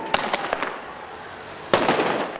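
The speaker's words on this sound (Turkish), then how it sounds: "güvenlik güçlerine molotof kokteyli ve havai fişek fırlattı" Fireworks thrown by masked protesters at security forces during clashes in Cizre: a quick string of sharp cracks and pops, then a second louder burst of bangs, with steady crowd and street noise behind.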